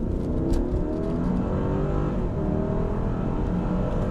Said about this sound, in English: let's get out here and just do a quick little acceleration test